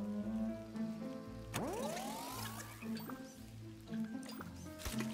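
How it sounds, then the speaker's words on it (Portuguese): Rain falling during a Plants vs Zombies 3 level, heard as soft, steady dripping and patter beneath game music and effects, with a rising whooshing tone partway through. "Está chovendo na fase 274"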